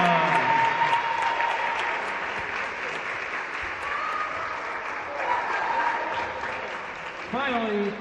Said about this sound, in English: Let's give another round of applause for Janisha.